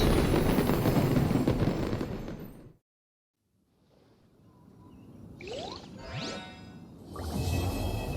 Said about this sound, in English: What did you think of this year's fireworks display?